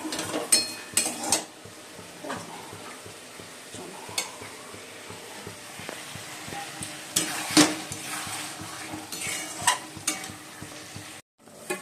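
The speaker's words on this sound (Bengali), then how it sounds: "ডিমগুলো পেঁয়াজ দিয়ে ভাজবো ভেজে ঝোলে দেবো" Eggs and onion frying in a karahi (wok), with a spatula stirring and scraping through steady close sizzle and occasional metallic clinks, alone without talk.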